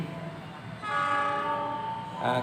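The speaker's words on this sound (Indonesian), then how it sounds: "kereta cepat nih, kereta cepat teman-teman, kereta cepat Jogja Gambir ya" A train horn sounds over the rumble of a passing train, sustained and fairly strong, with the rolling noise of the cars underneath.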